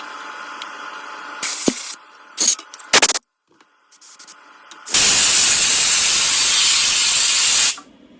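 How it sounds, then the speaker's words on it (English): Compressed air blasts through the water intake screen on a 1957 18 HP Evinrude outboard gearcase: several short sharp bursts of hiss, then one long loud continuous spray of about three seconds, close by. "I'm going to open up this plate right here and spray some air through it, make sure it's not blocked."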